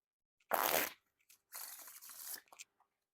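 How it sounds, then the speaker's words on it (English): Snackers v3 Blueberry Edition playing cards are riffle shuffled close up, giving a quick, rattling flutter followed by a second, longer burst and a soft tap as the deck is bridged. "these riffle and like shuffle fantastic"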